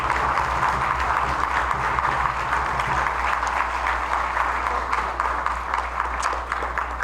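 A concert audience at an Easter orchestral performance applauds steadily, a broad, continuous patter of many hands over a low constant hum, with no talk.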